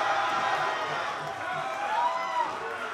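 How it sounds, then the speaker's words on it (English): A Davis Arena crowd at an OVW wrestling show roars in a steady, sustained wall of cheering, with a commentator talking over it. "This crowd is deafening right now."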